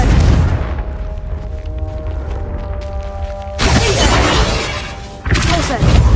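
Confringo blasting-spell explosions in Hogwarts Legacy, a game: loud bursts and crashes over a humming background, with a big blast around the middle and another near the end.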